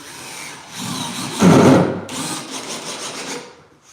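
A power drill drives screws into building material in a short, loud whirring burst that swells mid-clip, then trails into a quieter grinding hum.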